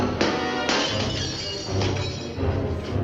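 A glass window shatters in the 1955 film Rebel Without a Cause, a sharp loud crash at the start followed by a second break and a scatter of tinkling shards over a low background rumble.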